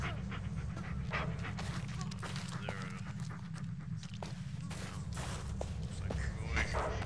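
A dog pants steadily and walks close by outdoors in a wooded area, the breathing continuous with faint footsteps and some low background rumble.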